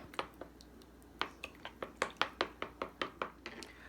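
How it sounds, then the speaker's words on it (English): A knife chops already softened vegetables on a board, about a dozen crisp, evenly spaced strikes picking up pace, close and clear with no talking. "what I'm doing now is chopping up some of those already soft vegetables out of the pan"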